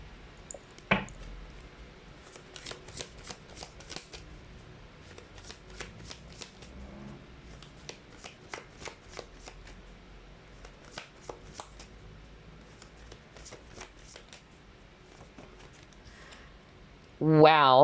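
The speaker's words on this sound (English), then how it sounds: "let's try to pull up more cards." Tarot cards are shuffled by hand in repeated quick riffling bursts with soft papery slaps, fairly close and moderately loud, with no voice over them, ending in a louder handling rustle.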